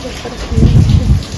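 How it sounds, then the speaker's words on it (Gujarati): Loud, heavy rain roars steadily with a deep rumble of thunder swelling underneath, close and enveloping. "વરસાદ ચાલુ છે"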